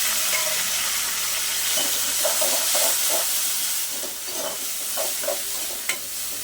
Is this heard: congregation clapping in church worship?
no